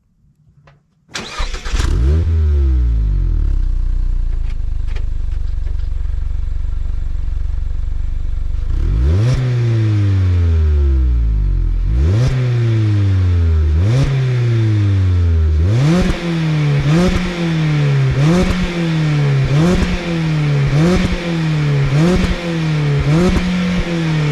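A 2022 Mazda MX5 Miata G184 with stock exhaust starts up loudly, idles, then revs repeatedly in a steady series of rising and falling blips, close and alone with no talk.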